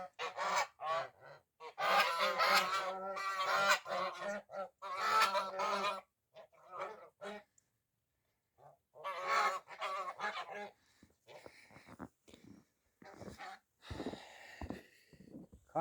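Geese in snow honk in bursts, loud clustered calls broken by quiet gaps, with some softer scattered noises and thumps toward the end.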